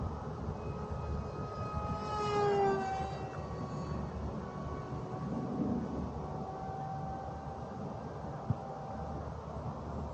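Steady whine of the electric motor on an FMS Fox 800mm RC glider at full throttle, faint and distant outdoors, with pitch sweeping slightly as the plane passes.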